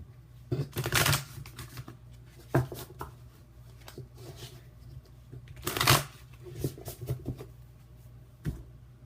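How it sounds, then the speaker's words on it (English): Large tarot or oracle cards being shuffled by hand, with several bursts of riffling and slapping close up, separated by quieter handling sounds and brief pauses. "it's just sometimes easier for me to just shuffle them this way"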